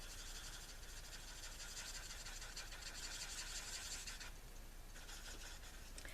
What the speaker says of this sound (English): then I'm going to go in with that color with my marker